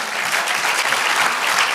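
A church congregation claps for the Lord in a thick, continuous wash of applause, loud and even throughout, with no voices over it.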